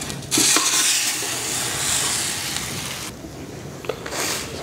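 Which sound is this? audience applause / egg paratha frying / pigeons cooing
egg paratha frying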